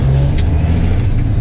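A truck engine in a rig with a Road Ranger 13-speed transmission revs steadily at close range while the driver shifts up through the low gears. The engine gives a continuous low droning hum with no talk over it.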